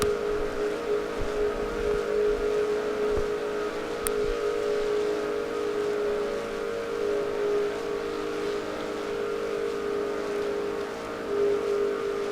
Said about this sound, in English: You heard Kyle having to get off the gas just a little bit.